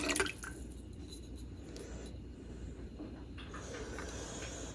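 A jar of clam juice pours into a pot for clam chowder, a soft liquid trickle and dripping with faint hiss heard close but quietly, with no talking.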